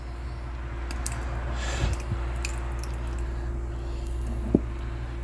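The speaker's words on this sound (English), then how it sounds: "Now I'm going to add my ketchup." Ketchup squeezed from a bottle into a raw meatloaf mixture, with a few soft wet squelches and a short sputtering splat near the end over a constant low hum, close and quiet.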